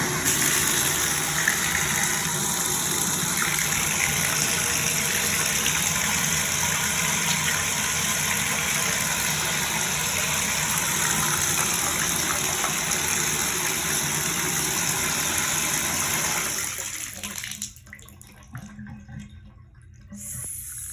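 Water runs steadily from a bathtub faucet and drains freely through a newly unclogged tub drain, a constant rushing flow heard alone that cuts off near the end, leaving quiet.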